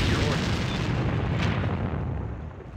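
Artillery fires in the World War II strategy game Sudden Strike 2, one heavy booming blast whose rumbling roar spreads and slowly fades over almost three seconds.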